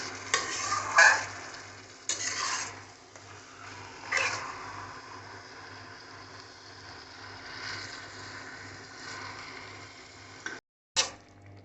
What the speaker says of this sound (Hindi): इसके बाद हमको खाली भूनना है